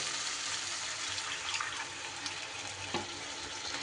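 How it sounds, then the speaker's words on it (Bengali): Water pours steadily into a cooking pan of spiced potatoes, a soft continuous splashing rush with a faint sizzle underneath, fairly quiet and without talk. "এইবার আমি এই পর্যায়ে দিয়ে দেব জল"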